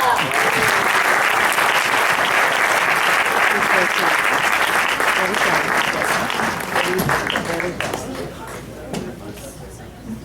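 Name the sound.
loud audience applause welcoming a poet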